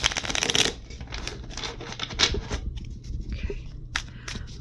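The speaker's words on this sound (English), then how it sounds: "I'll do one more shuffle." Tarot cards being shuffled by hand, a papery riffle burst at the start followed by softer intermittent card rustles and flicks, close and fairly quiet, with no speech over it.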